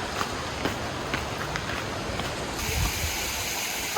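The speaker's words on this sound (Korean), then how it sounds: "여기 계속 계곡물도 흘러서" Mountain valley stream flowing near waterfalls on Dutasan, a steady close rush of water with broad, even splashing texture throughout and no voices.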